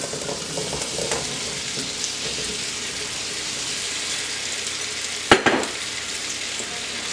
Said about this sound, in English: We're going to add our potatoes now